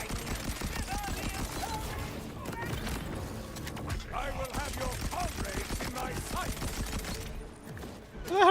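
Game gunfire aimed at the player keeps up nearly the whole time as dense rapid bursts, loud and close, with talk over parts of it.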